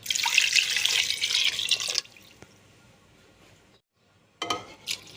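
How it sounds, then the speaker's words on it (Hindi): Water pours loudly into a pressure cooker holding potatoes and onions for about two seconds, then stops, followed by a few faint drips and a brief splash near the end. "पानी ऐड करना है इसमें।"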